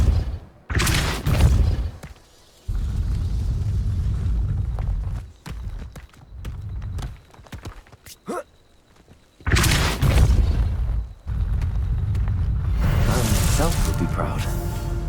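Hogwarts Legacy video game combat with a Depulso spell blast, heard as heavy booming thumps in bursts amid game sounds, with a voice speaking in between.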